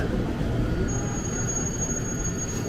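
A KRL commuter electric train runs through Depok station on a curve, a loud continuous rumble of wheels on rail with a thin high squeal from the wheels.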